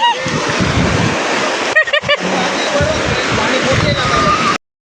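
Sea waves splash and slosh against a boat during a ride on the sea, a loud, steady rushing wash broken by a few sharp splashes before it cuts off abruptly.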